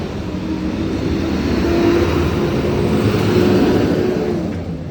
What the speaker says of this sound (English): It's the garbage truck.